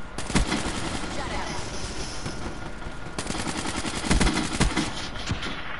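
Dense, sustained automatic gunfire from the Black Ops 3 video game, loud bursts rattling continuously with sharper cracks, speech faintly mixed in.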